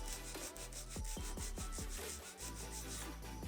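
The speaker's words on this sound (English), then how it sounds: "Again, holding the finger and nail securely. File straight out." A nail file rasps straight out across an acrylic nail in a steady, rhythmic series of close strokes, about two per second, over a constant layer of background music with no voice.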